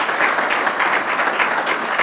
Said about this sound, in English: give her a big round of applause, that's it.